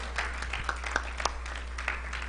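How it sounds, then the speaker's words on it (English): Scattered audience clapping at a religious lecture, with a handful of distinct sharp claps over a thin wash of applause and a steady low electrical hum underneath. "Give him a round of applause."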